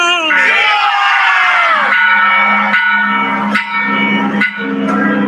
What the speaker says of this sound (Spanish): sí sonaron las campanas por fin y no habían sonado en mucho tiempo